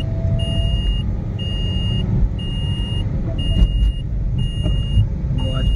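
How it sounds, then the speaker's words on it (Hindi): A Renault Duster 85 diesel is driven on the Mumbai-Goa highway with a steady low rumble of engine and road noise. Regular beeps repeat about once a second over the drone, and occasional knocks cut through. "तो इस कार का ले रहे हैं हम लोग छोटा सा टेस्ट ड्राइव, ओके इसका टेस्ट ड्राइव लेते हैं"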